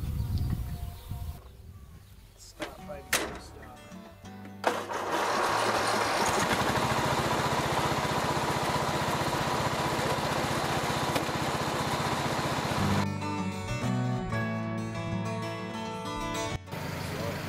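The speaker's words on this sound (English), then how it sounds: "So, got the lawnmower going?" Petrol lawnmower engine at an old stone cottage, starting with sputters and clanks, then running at a loud steady drone for several seconds before dropping to an uneven idle with birds faintly behind.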